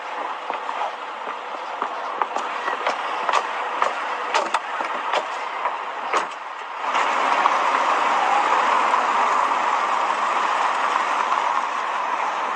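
A train rolls past a level crossing while a car waits, blocked. Sharp rhythmic clacks of wheels over rail joints are heard at first, then the sound swells into a louder, steady rumble of passing wagons.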